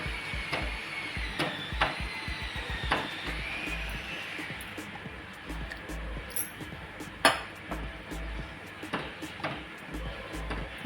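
Fruit custard thickened with custard powder is stirred in a pan, a spoon clinking and scraping against the metal in quick, uneven strokes throughout, close and fairly loud, with no voices.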